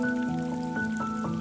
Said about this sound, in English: He listened to the soft sound of the flowing water.